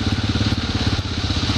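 An ATV engine idles close by at night on a trail ride, a steady pulsing, slightly crackly rumble with no break.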